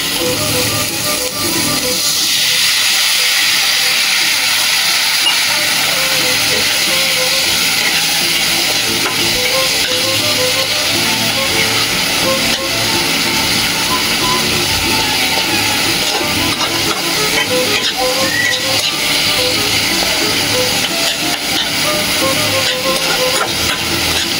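Water sizzling loudly in a hot pan of fried tilapia, a steady dense hiss that swells after the first couple of seconds and holds, with faint stirring clatter underneath.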